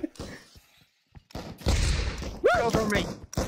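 A grenade explodes in the Pavlov VR shooter, a heavy thump mixed in with gunfire. Several voices talk excitedly around the blast.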